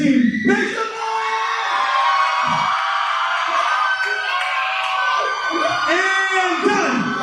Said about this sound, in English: If you think Team No Sleep was the better team, make some noise!